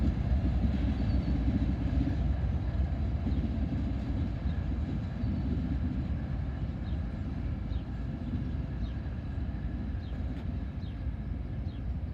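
An eastbound intermodal freight train of domestic containers, pushed by an ES74AH locomotive at Deshler, rolls past in a steady, continuous rumble of wheels and cars that holds level throughout.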